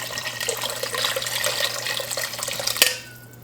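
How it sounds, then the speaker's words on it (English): Water pours steadily into a pot for chicken curry, a continuous splashing rush that stops abruptly near the end, leaving a quieter hum. "So I'm going to add some water."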